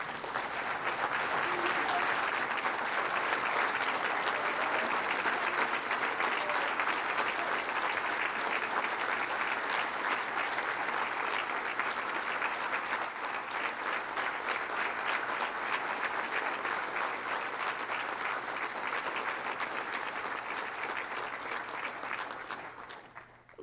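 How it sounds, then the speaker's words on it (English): A standing audience applauds Gold Star and veteran families at a Wreaths Across America ceremony in Fitchburg, Massachusetts, with steady, dense clapping that holds for about twenty seconds before tapering off. "please stand for a round of applause to all of our Gold Star and veteran families"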